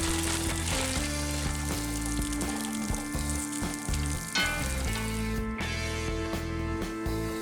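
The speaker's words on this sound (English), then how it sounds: "add a little oil to the pan, and in go the fries" French fries fry in oil in a hot cast iron pan, giving a loud, continuous close-up sizzle and crackle with steady bubbling throughout.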